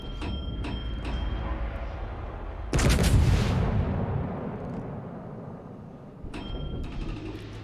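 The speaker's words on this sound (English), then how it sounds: "It's the Stalin and the Marseille that are shooting me." A single loud, close tank cannon blast from the Stalin and Marseille tanks in a tank video game, booming and then rumbling as it decays, set among lighter mechanical clanks before and after.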